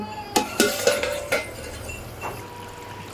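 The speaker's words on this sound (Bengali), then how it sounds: "এবারে ঢাকনাটা খুলে নেব" A metal pot lid is lifted off a simmering fish and pointed gourd curry, giving a few close clanks and scrapes followed by a quiet background hiss.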